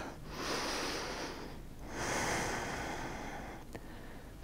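Slow, deep breaths during a Katonah yoga forward bend practice, two long airy exhales close to the microphone with a soft pause between them, quiet and without talk.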